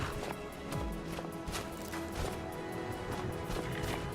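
Hooves of a Dwemer-armored horse in Skyrim clip-clopping at a steady, quick gait, close and fairly loud over a faint game ambience.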